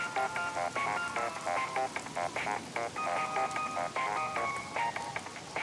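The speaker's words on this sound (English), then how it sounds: "At least your ringtone is cool." A cheerful electronic phone ringtone from the video game Luigi's Mansion 2: Dark Moon, a looping melodic chime of bright repeated notes playing steadily at moderate volume, with no talking.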